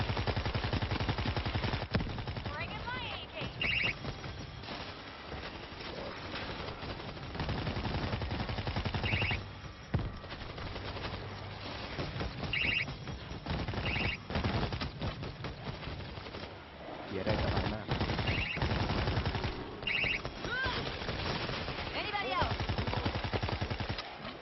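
Rapid bursts of automatic gunfire and explosive weapon blasts from the co-op zombie shooter World War Z Aftermath, dense and continuous across the stretch with brief pauses, mixed with game effects and occasional voices.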